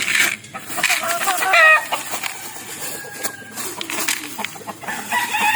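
Backyard pet chickens cluck and chatter while being fed a bought feed mix, several birds close by with busy, overlapping calls and a brief crow-like burst, under light activity noise.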